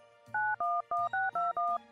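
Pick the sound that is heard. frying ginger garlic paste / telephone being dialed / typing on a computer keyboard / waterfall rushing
telephone being dialed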